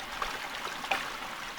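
Water runs steadily in a small irrigation stream in Mactan, a soft, continuous trickling wash with a few faint splashy blips, fairly quiet and uninterrupted.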